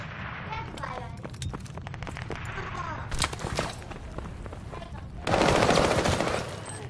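Gunfire in the video game Call of Duty: Vanguard, with rapid automatic bursts and single shots at varying distances, and a dense loud stretch near the end, under intermittent talking.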